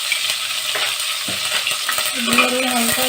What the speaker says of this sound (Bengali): হালকা একটু নাড়া দিয়ে দেবো।